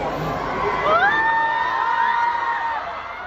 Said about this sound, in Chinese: 大家不要尖叫的这么快哦